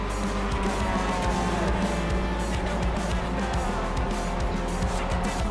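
A Mazda MX-5 race car in a production endurance race at Tsukuba Circuit drones loudly and steadily from close by, its engine note holding nearly constant pitch for several seconds, with rough wind and road noise layered over it and no speech.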